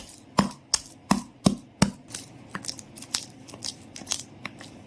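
Wood apple pulp is mashed with coriander leaves and green chilli, a close series of sharp pounding and crushing strokes, strong and regular at first, then quicker and softer.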